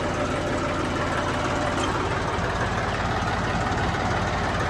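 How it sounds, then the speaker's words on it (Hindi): A Massey Ferguson 1035 tractor, a model roughly 19 to 20 years old, runs with a steady, loud diesel rumble while its hydraulic lift raises. The engine drones close up with no talk. "तो इसकी लिफ्ट जो है कितनी तेज़ उठती है सिंपल वाले 1035 की, वो भी मैं आज आपको दिखाता हूँ ट्रैक्टर चालू करके।"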